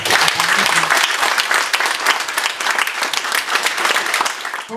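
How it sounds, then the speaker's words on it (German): Dense, steady applause from an audience at a German community event, many hands clapping continuously and close, with a faint voice or two underneath. "Und wir geben uns jetzt einfach mal einen mega Applaus"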